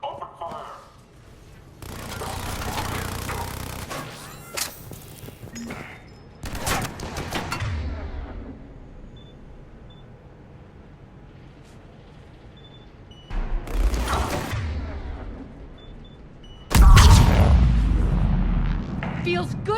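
Sustained gunfire in a Mass Effect 3 combat sequence, bursts of rapid shots and heavy blasts coming in waves with quieter gaps between, loudest near the end, with game voices speaking in places.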